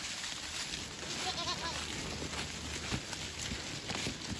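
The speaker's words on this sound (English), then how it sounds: "Come on, goats!" Goats bleating amid steady outdoor background noise, with a few faint calls rising over the constant hiss.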